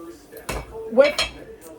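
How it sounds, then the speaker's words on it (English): Eggs dropped into a pot of boiling meat, two or three sharp metallic clinks against the pot in quick succession, close and fairly loud, with faint background sound between them. "we're going to put the eggs right in here in the pot"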